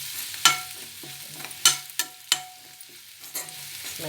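Onions fry with turmeric in a pan, giving a steady soft sizzle broken by several sharp scraping stirs of a utensil. The sound is close up, with no talking.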